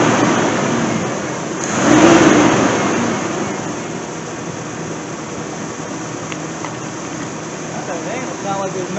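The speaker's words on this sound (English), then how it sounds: "Sound like there's nothing wrong with that engine." A car engine that sat unused for nearly six years runs at a steady idle, a low continuous hum with a brief swell near the start, heard from nearby under a constant broadband drone.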